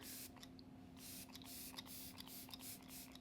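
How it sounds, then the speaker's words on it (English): Several short, soft hissing bursts from an Arbonne Let It Set Refreshing Finishing Spray mist a face up close, in quick uneven succession with quiet pauses between them. "to set my face, I'm using my Arbonne Let It Set Refreshing Finishing Spray"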